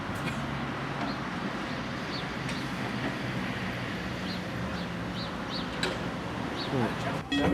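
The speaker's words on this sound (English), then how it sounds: "So everybody knows there's a tram moving." A tram moves along the Seaton Tramway with a steady low rumble of running gear, while faint bird chirps sound in the background and a brief clatter comes near the end.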